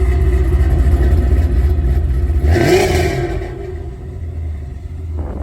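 A 1990s Honda Civic EK's B16A engine with Hondata S300 and new exhaust rumbles low and steady, then revs up briefly with a rising whine before settling back to a deep idle.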